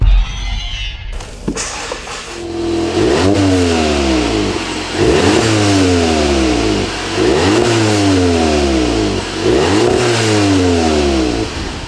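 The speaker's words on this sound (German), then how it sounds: "die GTI-Abgasanlage. Klingt auch sehr speziell, da hören wir jetzt einmal rein." A Volkswagen Golf GTI exhaust revs repeatedly, each blip rising then falling in steady rhythm, loud and close with a deep throaty rumble between pulses.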